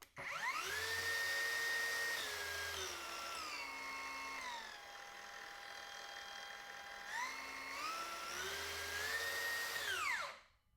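Wen 20691 cordless track saw motor whining loudly, spinning up, dropping to a lower speed, then ramping back up before winding down, with no talking.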